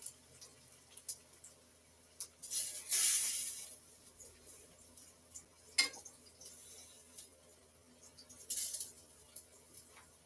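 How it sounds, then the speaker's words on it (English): Bursts of sizzling hiss from plantains frying in a pan, rising and fading in a few surges over a low background hum, with no talking. "we're frying some plantains"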